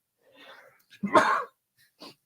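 A single sharp sneeze, close and fairly quiet, preceded by a soft breathy intake and followed by a brief faint sound.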